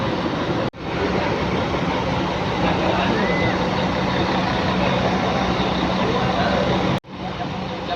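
Broadband rumble of Mercedes-Benz 1626 buses of the Pandawa 87 fleet in Palembang, with the engine noise steady and loud throughout and brief cuts near the start and end, mixed with murmuring voices.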